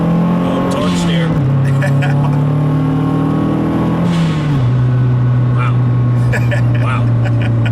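A turbocharged Mazdaspeed 3 accelerates under boost from inside the cabin, its engine drone climbing and dropping through gear shifts, loud and continuous, with people talking over it.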